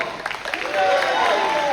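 An audience applauds a co-director at the curtain call of a stage play, a brief burst of clapping and cheering beneath someone speaking into a microphone.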